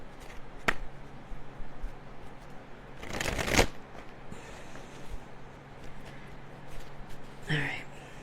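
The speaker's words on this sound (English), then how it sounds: "So, all right, one more shuffle, Spirit." A deck of archetype cards is riffled in one quick, close shuffle burst, with a briefer riffle a few seconds later. Soft handling noise fills the gaps between them.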